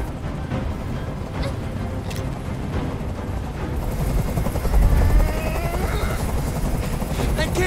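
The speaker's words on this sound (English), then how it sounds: "can't stand that noise anymore! Tell that helicopter to get out of here!" A steady, loud helicopter rotor thrum and engine whine fill the scene continuously in the video game Detroit: Become Human, with voices faintly underneath.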